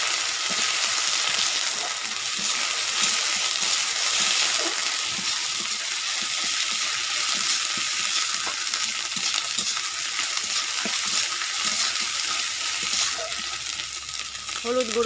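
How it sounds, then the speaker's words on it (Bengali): Ginger-garlic paste frying in a pan as it is stirred, giving a steady, close, loud sizzle with scraping stir sounds throughout, in a village kitchen. "আদা রসুনের বাটাটা দিয়ে দিচ্ছি, ভালো করে নাড়িয়ে নিচ্ছি।"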